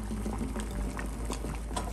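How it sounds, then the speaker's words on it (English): Eggs boiling in a pot of water give a continuous dense bubbling and rolling simmer, close and steady throughout, with no talk. "our eggs have been boiling this whole time"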